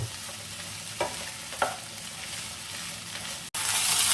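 Okra frying in a pan, a steady close sizzle with a couple of soft stirring scrapes and a brief cut before the frying hiss returns louder.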